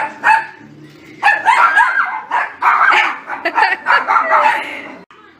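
A frightened dog barks and yips at a vacuum cleaner at home, loud and close, in a rapid irregular run of sharp barks broken by whiny yelps, with a low hum faintly under the first second.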